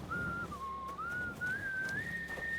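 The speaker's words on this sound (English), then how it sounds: "Nice whistling, buddy." A single whistled melody from Kingdom Come: Deliverance II, a clear wavering tune that slides between a few pitches and runs steadily for a few seconds over a low, murmuring game ambience.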